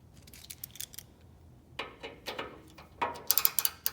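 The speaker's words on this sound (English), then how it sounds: "removing these 3 Bronco bolts on the front of your modular bumper with the T40 Torx bit" A T40 Torx bit works on the three front bolts of a Ford Bronco modular bumper, giving quiet, close ratcheting clicks, sparse at first and then in quicker bursts toward the end.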